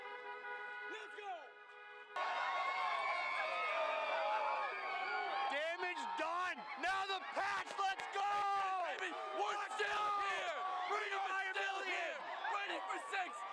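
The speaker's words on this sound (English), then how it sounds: "the Beantown Pound burst into celebrations with fans screaming and cheering" Sports fans at a Boston Super Bowl victory celebration scream, whoop and cheer together in a dense, loud, continuous crowd roar with rising and falling shouts throughout.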